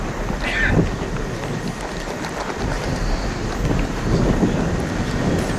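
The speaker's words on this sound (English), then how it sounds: "The wind kicks up." Wind gusts steadily across an outdoor green during a singles grand final of lawn bowls at Moama, a broad constant rush and buffeting on the microphone that swells slightly toward the end.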